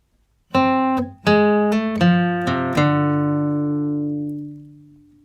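Plucked acoustic guitar notes play a short, slow melody with a slide between notes, the final note sustaining and fading away.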